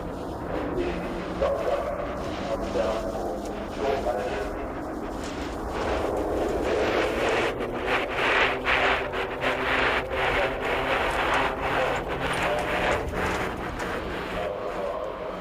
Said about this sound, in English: AN28 twin turboprop short-range transport